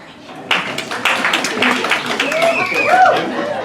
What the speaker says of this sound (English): Clap any ladies that feel like I feel